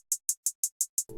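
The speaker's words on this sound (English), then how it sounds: "Then we're layering in this hi-hat" Six crisp, evenly spaced hi-hat hits tick out a steady pattern in a hip-hop beat, bright and dry, before a fuller, lower sound cuts in at the end.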